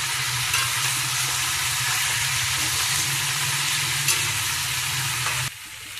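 Bengali pachan vegetables, including green banana and young jackfruit, fry in spices with a continuous close sizzle and faint stirring scrapes, then the sizzle drops abruptly near the end.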